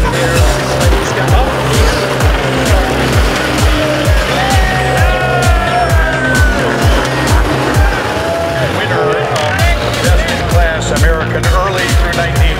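A Thomas Flyer K6-70 antique car drives in a circle at the Boca Raton Concours d'Elegance, its engine chugging in a steady loud rhythm with tire squeal, while someone talks over it.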